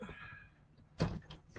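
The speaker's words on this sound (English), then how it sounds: "Let me close this door" An indoor door swings shut with a single solid thud near the end, following a quiet stretch of faint room noise.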